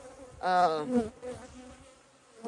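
Honeybees drone around an October hive being treated against mites, a loud harmonic buzz swelling near the start and fading into a softer hum.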